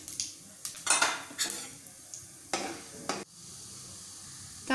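Sharp crackling bursts of mustard seeds popping in hot oil, several quick spurts and spatters over a low background hiss.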